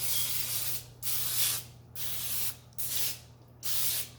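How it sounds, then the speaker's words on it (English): Non-stick cooking spray is misted in five bursts onto a wire rack set over a pan for chicken wings, each bursting hiss loud and close, with short pauses between, over a steady low hum. "Then we're going to take our non-stick spray"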